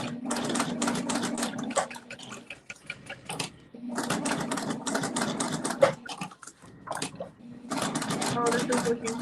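A sewing machine stitches vinyl for a wallet in bursts of rapid mechanical whirring, starting and stopping three times, with someone talking in the pauses between runs.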